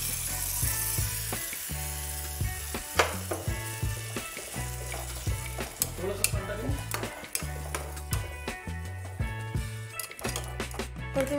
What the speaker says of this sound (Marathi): आणि हे पाणी मी कढईमध्ये टाकून घेणार आहे